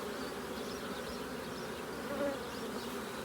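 Honeybees buzzing around a hive during beekeeping work: a steady, dense drone of many bees, close and continuous with no pauses.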